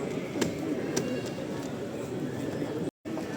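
Soft cooing of pigeons, including Scandaroon pigeons, at a judging event, mixed with a crowded, murmuring background of people talking, with a few sharp clicks and a brief dropout near the end.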